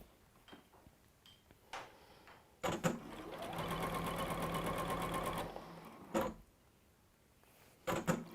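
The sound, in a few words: sewing machine sewing fabric strips together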